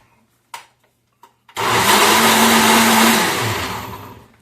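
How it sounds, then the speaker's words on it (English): A few light taps and clunks as a lid goes on, then a blender whirs loudly into life, blending a vanilla protein shake with a steady roaring whine that slowly eases off near the end. "Blend it up."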